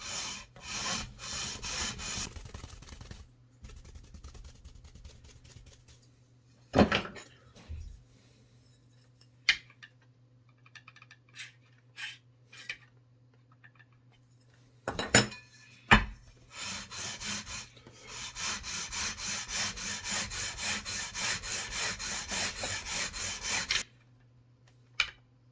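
Mahogany is sanded by hand with 320 grit sandpaper, a soft rhythmic scratching in bursts separated by quiet pauses and occasional knocks, close and fairly faint.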